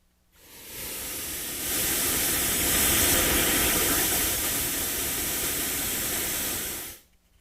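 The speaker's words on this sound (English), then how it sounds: "That is pink noise." Broadband pink noise hisses steadily from a nearby speaker, swelling slightly louder partway through before cutting off abruptly.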